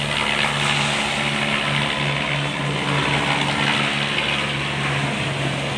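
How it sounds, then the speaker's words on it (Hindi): A helicopter flies over the snowy Kedarnath valley in the Himalayas, its rotor and engine making a steady, loud droning hum that holds unbroken for the whole stretch, with no voices. "ये हेलीकॉप्टर।"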